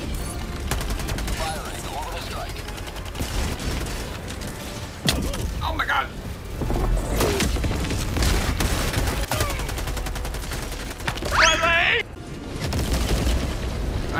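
Gunfire in the video game Helldivers 2 rattles as dense rapid machine-gun bursts and booming explosions, nearly continuous and loud, with a few sharp whistling effects. Voices speak in between.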